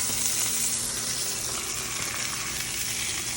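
A sous vide steak searing in a hot pan, a loud, dense, unbroken sizzle close up, with no distinct flip sound standing out and no voices.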